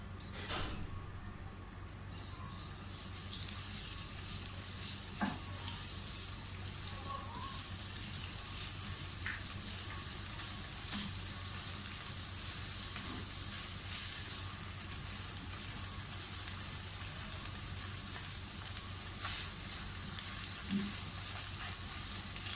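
Steady sizzling hiss of garlic frying in oil, continuous and close, with a few soft clinks and stirring taps scattered throughout.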